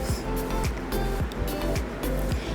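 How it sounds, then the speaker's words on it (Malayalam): Water from a mixer jar is poured into a pan of matar paneer gravy, giving a steady, close, fairly loud splashing rush that runs unbroken for the whole stretch, with no talking. "ഞാൻ മിക്സിയുടെ ജാറിലേക്ക് തന്നെ ഒരു ഒന്നര കപ്പോളം വെള്ളം ഒഴിച്ചിട്ട് ആ ഒരു വെള്ളം കൂടെ ഇതിലേക്ക് ഒഴിച്ച്"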